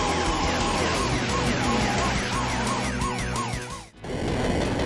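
Wailing police car siren from the Chase HQ / Out Run arcade racing game, sweeping up and down repeatedly over a dense game soundtrack and engine noise, cut off abruptly near the end before the music resumes.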